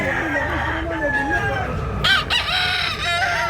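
A rooster crows loudly and nearby at a chicken market in Tabunok, Cebu, with clucking around it and faint talk in the background.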